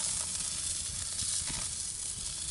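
Goose leg quarters sizzle on a grill with steady crackling and hissing, close and continuous, with small pops scattered through the searing.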